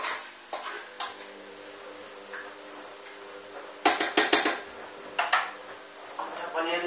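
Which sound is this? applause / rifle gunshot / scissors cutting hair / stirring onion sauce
stirring onion sauce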